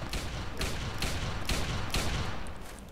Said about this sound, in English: Are you shooting at more corpses?